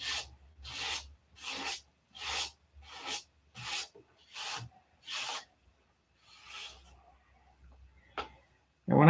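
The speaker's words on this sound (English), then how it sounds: "you just keep sanding until the shadow goes away" Rhythmic rasping strokes of hand sanding, about eight even back-and-forth passes close up, then a few fainter rubs trailing off.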